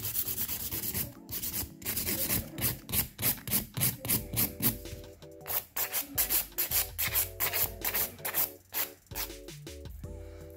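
A nail file is stroked back and forth over a gel nail during a fill-in, giving close, rhythmic rasping strokes in a steady series. The scraping is loud and up front, with a faint soft tone in the background.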